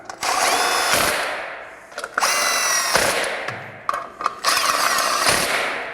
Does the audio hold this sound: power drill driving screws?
yes